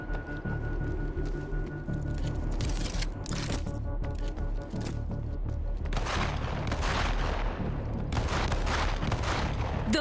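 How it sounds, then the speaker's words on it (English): Gunfire in the Xbox One video game World War Z, a dense volley of rapid shots and bursts over a constant rumbling, loud and continuous with no talking. "Those shots came from the highway."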